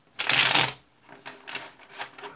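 Tarot cards spill and slap while being handled, a loud burst of riffling, flapping card noise followed by a few quieter shuffling rustles, close by and with no talking.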